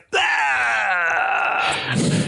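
A voice imitates a martial artist's long exhaling scream on striking, a loud sustained strained wail that holds steady for about two seconds before breaking off.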